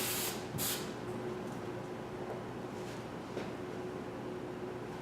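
A continuous aerosol spray hisses steadily from an aerosol can nearby, after a couple of short bursts at the start.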